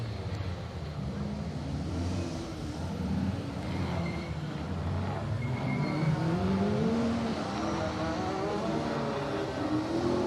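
Mitsubishi Evo 8 rally car on a circuit rally stage at Cadwell Park, its engine droning steadily with shifting revs from a moderate distance, loud and continuous for the whole stretch.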